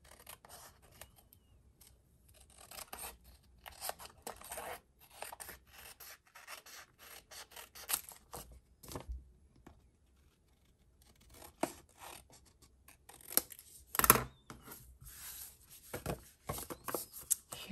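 Scissors trimming a 2.5 by 6 inch piece of designer series paper around an envelope flap, giving quiet intermittent snips and rustling paper rubs in short bursts, close and soft.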